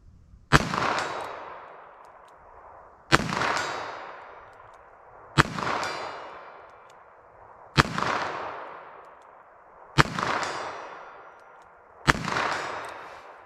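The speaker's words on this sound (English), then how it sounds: "So I'll keep shooting, see if I can hear these this time." Six sharp shots from a Ruger LCRX 3-inch .22 Magnum revolver, evenly spaced about two seconds apart, each a loud crack with a ringing tail fading before the next.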